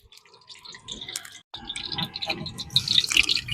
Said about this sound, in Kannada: ಅಡಿಗೆ ಎಣ್ಣೆ,